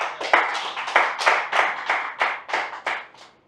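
An audience at an open mic poetry and music night in Amritsar claps in a quick, rhythmic series of about nine sharp, close hand claps that fade slightly at the end, with no voices over them.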